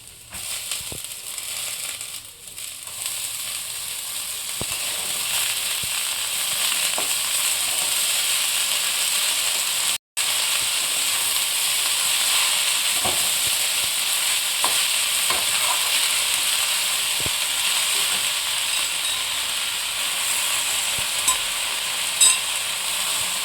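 Leafy greens tossed into a pan of frying ginger and garlic, a loud, broad, steady hissing sizzle that carries on for a long stretch with a brief break partway through and faint stirring scrapes.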